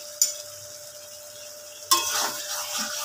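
Green peas are stirred into a katla fish curry with cauliflower and yogurt in a wok. Two sharp scraping clatters of a spoon against the pan sit over a faint low sizzle.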